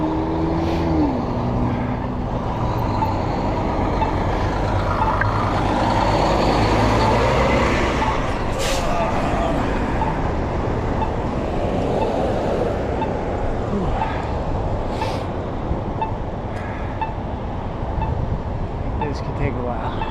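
Loud city traffic of cars, trucks and buses rumbles continuously beside a Paris bikeway near Notre Dame, with engines revving and passing close by for the whole stretch.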